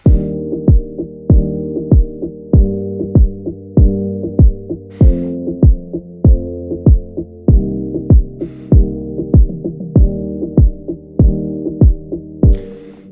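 A steady looping hip-hop beat built in FL Studio, with muffled, filtered kick-like thumps pulsing regularly under a sustained harmonic melody, with occasional bright hi-hat splashes.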